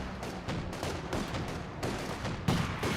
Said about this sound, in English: Your Panzer IV is firing away.